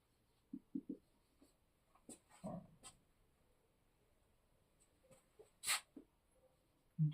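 Pen writing on paper during an accounting lesson, heard as a few short, quiet scratching strokes scattered across the quiet clip, with brief soft taps and pauses between them.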